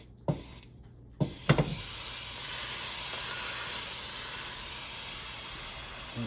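Ground elk sizzles steadily in a pan as it browns, a soft continuous hiss following a few sharp clanks of a utensil against the pan at the start.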